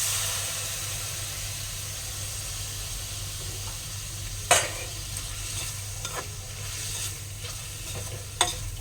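Tomato and red chili paste sizzling and frying steadily in a pan, a continuous hiss with a few sharp stirring scrapes against the metal, close and fairly loud, no talking.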